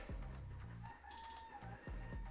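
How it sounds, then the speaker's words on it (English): A rooster crows once at a distance, its long call rising and falling beneath repetitive low thumping and mechanical clatter, near an indoor grow room. "Rooster's going off right now."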